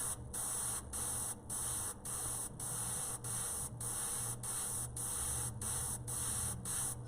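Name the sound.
spray paint aerosol spraying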